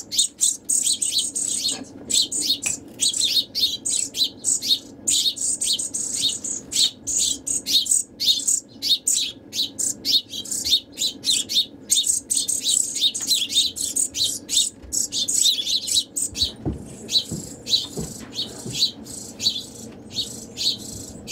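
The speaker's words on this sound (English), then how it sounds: "Now we're going to feed the brown-headed cowbirds and the house sparrows." A flock of small birds, sparrows and cowbirds, chirps continuously in dense overlapping tweets, busy and close, with a faint rattle underneath.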